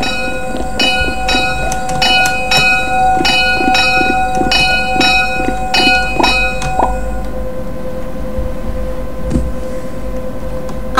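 A train in the video game Mad City rolls along steadily with rhythmic clacking wheel beats and ringing metallic tones, loud and continuous before easing off.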